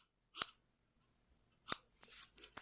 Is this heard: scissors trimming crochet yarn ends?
yes